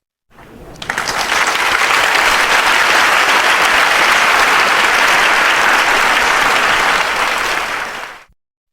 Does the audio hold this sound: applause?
yes